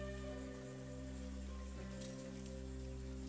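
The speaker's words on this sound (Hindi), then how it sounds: "ये बारिश आ रहा है" Rain falls steadily on cold, wet weather outdoors, a soft continuous hiss with a low steady hum running underneath, fairly quiet and unbroken.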